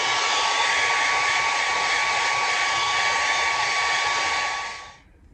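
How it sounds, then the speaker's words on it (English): A hair dryer blows on wet paint in a steady loud whooshing drone with a faint whine, running evenly before switching off and spinning down near the end. "I'm gonna grab the hair dryer."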